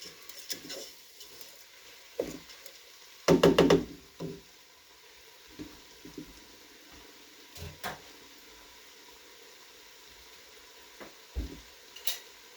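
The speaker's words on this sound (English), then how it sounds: "Going to give all this a good stir" Vegetable broth stirred in a pot with browned vegetables, intermittent spoon knocks and scrapes against the metal including a quick rapid burst of clatter, over a faint background sizzle, close and without talk.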